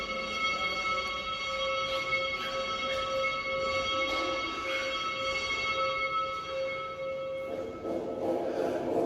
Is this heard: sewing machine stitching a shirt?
no